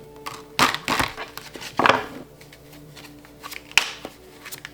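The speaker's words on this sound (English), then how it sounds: "All right, let's get some cards and see." Tarot cards being shuffled close up, a few quick riffling bursts separated by softer handling rustles, brief and clear, with no talking.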